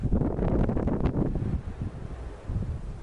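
Wind blows outdoors in a soft, broadband rush with gusty swells that ease off partway through, fairly quiet and with no voices.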